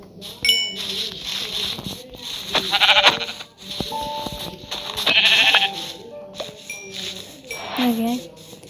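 Sheep bleating in the Minecraft video game during a hardcore survival world, several short wavering bleats mixed with chiming game tones while a person talks over them.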